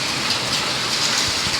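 Heavy rain mixed with hail pours down during an unseasonal March storm, a dense, steady wash of drumming close by with no voices.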